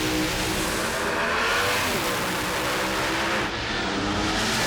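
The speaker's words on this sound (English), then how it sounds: "These are two 550 race cars here." Drag race cars launching at the NHRA U.S. Nationals in Indianapolis roar with dense, loud engine noise and rising revs, rushing past nearby and trailing off, with no talk.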